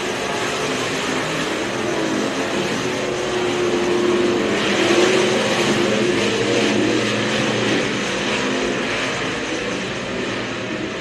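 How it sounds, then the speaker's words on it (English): Race cars roar around an oval track in a steady, loud, continuous engine drone that swells slightly as the pack passes, with no voices. "About an 8-car length advantage from the 92 of McIntoon to the 74 of Pesic, but Pesic shrinking it big time through 3 and 4 that time."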